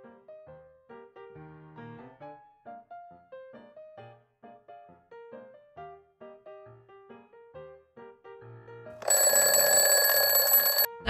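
A quiz countdown plays a soft, plinking electronic melody of short repeated notes, then a loud, shrill alarm bursts in for the final two seconds.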